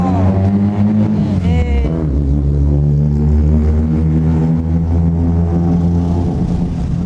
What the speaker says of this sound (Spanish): hay uno que hace ruido con un auto